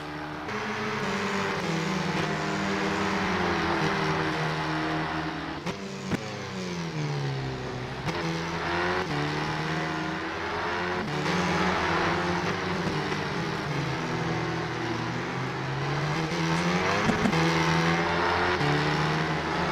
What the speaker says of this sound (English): As you can see, Mika is on a great lap at the moment.